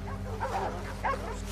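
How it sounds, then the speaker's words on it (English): Dogs in Red Dead Redemption 2 bark and yip in a couple of short excited bursts over a low steady hum of game ambience. "Just dogs gone crazy."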